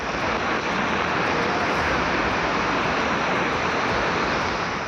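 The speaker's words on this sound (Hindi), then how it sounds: "जहां बड़ा महादेव का वाटरफॉल रौद्र रूप में नजर आ रहा है।" A flooded waterfall at Bada Mahadev in Mandsaur, Madhya Pradesh, overflowing in monsoon spate, giving a steady, dense, loud roar of rushing water that continues without a break and without talk.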